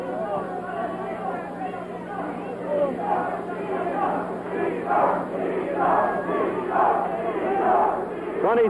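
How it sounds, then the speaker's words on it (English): Boxing arena crowd at a middleweight title fight rhythmically chanting a boxer's name, loud repeated rising calls in a steady beat over the general roar of spectators. "The crowd chanting Nino."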